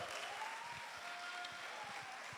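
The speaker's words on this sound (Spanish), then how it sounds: "Un aplauso al Señor." Church congregation applauding together, a steady, fairly quiet wash of clapping held at an even level throughout, with no voices rising above it.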